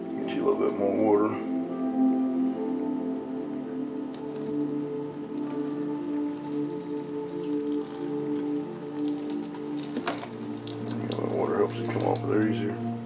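Water runs steadily from a tap, a continuous splashing flow, with brief talking near the start and the end.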